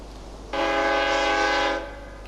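A single sustained train whistle blast in Railway Empire, with a rich chord of harmonic tones, loud and steady for over a second before cutting off.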